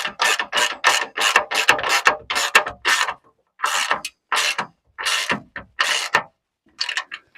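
A ratchet clicks in fast repeated bursts, close and loud, while tightening a skid plate nut and bolt under a Ford Transit-based Winnebago Ekko, with short pauses between strokes.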